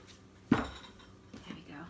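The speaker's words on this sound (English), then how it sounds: "I have a lot of jars underneath this counter, as you can hear. They're kind of wiggling about a little bit." Glass jars under a kitchen counter rattle against one another while pie crust dough is being rolled out, one sharp clink followed by fainter, softer jostling.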